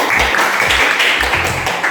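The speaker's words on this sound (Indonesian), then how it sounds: "Kita beri tepuk tangan." Classroom applause for a group presentation during a teacher training session, a steady, fairly loud wash of clapping from a small audience with faint rhythmic thumps underneath.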